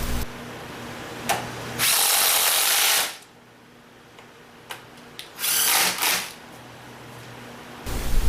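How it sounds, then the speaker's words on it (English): A cordless impact wrench driving bolts on the bodywork of a 2017-or-later BMW R1200GS/R1250GS motorcycle, in loud close bursts of about a second each, separated by pauses and short clicks. "A cordless impact wrench makes this much easier."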